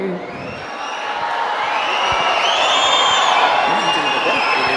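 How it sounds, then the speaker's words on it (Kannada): Crowd at a stage event applauding and cheering, a dense continuous wash of clapping with whoops that swells and holds loud throughout. "ಜೋರಾದ ಚಪ್ಪಾಳೆ ಬರಲಿ."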